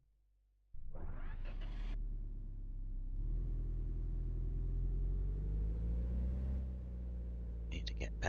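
A car engine in the driving video game Nomad Drive starts with a rising whine, then settles into a low steady rumble that swells gently as the vehicle pulls away. It sounds close and constant, with a few light clicks near the end.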